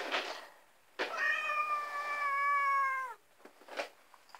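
A cat meows repeatedly nearby in a cat boarding hotel, one long drawn-out meow in the middle flanked by shorter calls, with no talking.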